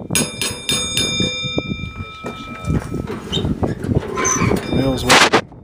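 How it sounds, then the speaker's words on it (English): The bell on a 1959 Murray pedal fire truck, a children's toy truck, rings with several sharp metallic dings at the start, followed by handling clatter and rattling close by, with a voice speaking briefly. "The bell still works."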